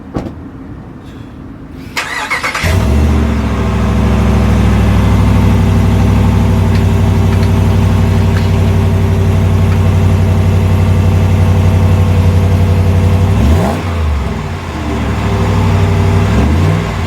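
A 2020 Ram 1500 Big Horn Night Edition pickup starts up and settles into a steady, loud, close idle, with a deep low rumble that holds for the rest of the clip.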